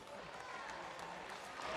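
Indoor crowd at an NBL basketball game between the New Zealand Breakers and Cairns Taipans applauding: a dense, continuous wash of clapping, fairly faint and distant, swelling slightly at the end.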